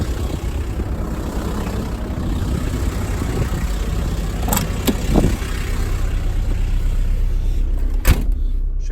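A 1990 two-door Range Rover runs at a steady, close idle for several seconds, with a few sharp clicks and clunks from the cabin or door as it gets ready to set off.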